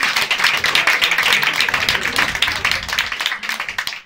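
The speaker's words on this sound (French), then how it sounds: "Applaudissez ceux qui ont 2 enfants." Sustained audience applause fills a comedy club in Paris, dense steady clapping from a crowd over about four seconds, no voices on top, tapering slightly at the end.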